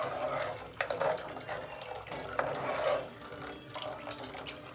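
Cooked lentil liquid is poured into a cooking pan, a steady watery splashing and trickling that runs close and fairly loud for several seconds with small surges, no talk over it.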